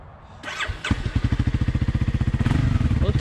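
A dirt bike engine starts up and revs near, settling into a steady, rapidly pulsing idle-like throb that gets a bit louder toward the end.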